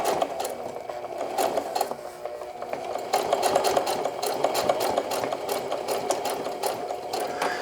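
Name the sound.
sewing machine back tacking to finish a denim jeans hem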